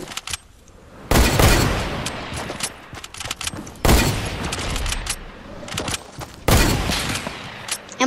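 Gunfire in Fortnite: three loud, sustained bursts of rapid shots with heavy booming impacts, separated by stretches of softer crackling and scattered pops.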